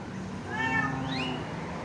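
A Bengal cat, a male with rosette markings, gives one drawn-out meow with a rising tone, close and fairly soft, over a quiet room hum.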